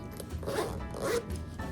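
A zipper on a flosstube project bag compartment pulled in two or three close, raspy strokes, near and moderately loud, with no talk.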